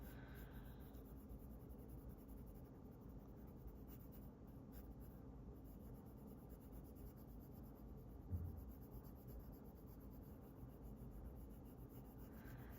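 A colored pencil scratches steadily across paper in a continuous, soft rasping stroke, faint and close, carrying on without pause over a low background hiss with no voices.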